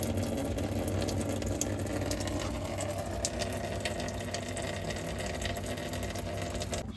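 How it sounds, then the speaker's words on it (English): Hot tap left open to drain a domestic boiler, giving a steady, loud rush of running water with a mechanical hum underneath, continuous for the whole stretch without talk. "Open the hot tap. I'll drain off the boiler."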